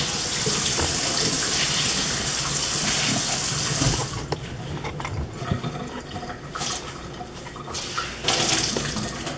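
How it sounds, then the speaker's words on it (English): Warm water from a tap runs steadily with a splashing hiss, then softens into uneven trickling and sloshing as a mop pad is rinsed beneath it. "use warm water and give it a tight rinse"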